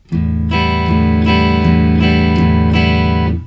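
Acoustic guitar strummed in a steady rhythm, alternating down and up strokes that ring full and sustained, played close and alone.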